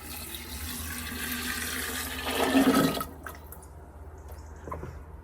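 Water gushes steadily and noisily for about three seconds, swells briefly, then cuts off, leaving a quiet room with faint trickles and clinks.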